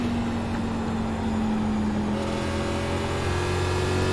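A NASCAR race car engine in the iRacing simulator drones at a constant high-revving pitch with a slight gear or pitch change midway, steady and fairly quiet, with no talk.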